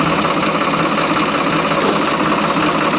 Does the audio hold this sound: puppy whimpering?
no